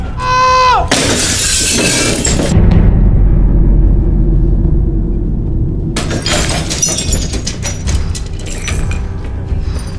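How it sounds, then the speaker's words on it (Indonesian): Glass shatters loudly in two bursts, a bright crashing spray of breaking shards followed after a few seconds by a second long clattering smash, with low rumble between them. "Hancurkan kembali. Bayangkan kembali di sekitaran Mas Kris ada sebuah kaca"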